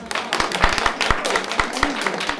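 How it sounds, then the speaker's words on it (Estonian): Audience applause at a ceremony celebrating a win in the national learning-deed award for folk costume making, with irregular sharp claps sounding through a lively, fairly loud room. "Et meile kõigile suur aplaus."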